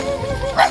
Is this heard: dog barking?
yes